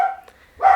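A pet dog barks indoors in a home decorated for fall, one short sharp close bark at the end after a sustained whine-like tone, with no voices.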